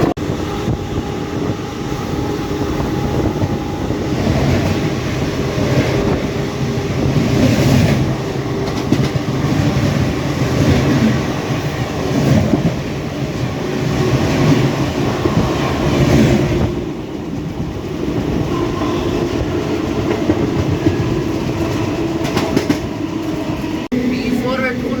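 The 17011 Intercity Express between Charlapalli and Ghanpur runs at around 100 km/h, producing a steady, loud rolling roar with rhythmic wheel clatter heard from on board, while a voice talks over the noise.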